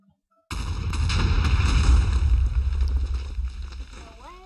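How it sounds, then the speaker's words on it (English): A Minecraft TNT block detonates and is heard through an in-game CCTV camera as one loud, sustained blast with a rumbling tail that fades over several seconds. "So now you can watch a TNT explosion from your safe little humble abode."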